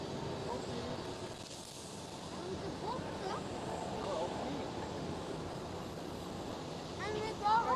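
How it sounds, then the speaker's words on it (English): An Emirates Boeing 777 accelerating down runway 18 left at Schiphol Amsterdam, a broad jet-engine roar heard from a distance, steady and moderately faint with a rising rush near the end, alongside voices. "Emirates 777. Speeding down the runway. Runway 18 left."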